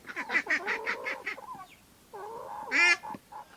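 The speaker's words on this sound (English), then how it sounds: "So the chickens are getting a snack." Farm chickens getting a snack, heard as a run of loud, harsh honking clucks and squawks in quick succession, a pause, then more nasal calls and a sharp squawk, close by with no talk.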